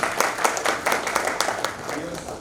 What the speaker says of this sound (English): One more round of applause for Robbie